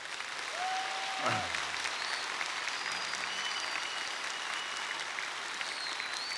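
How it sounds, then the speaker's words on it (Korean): A church congregation during Sunday worship applauds the Busan mayor with steady, full applause throughout, even and sustained with no break and a brief tonal sound early on. "우리 박형준 우리 부산시장님도 오셨는데 우리 박수로 격려하시고요"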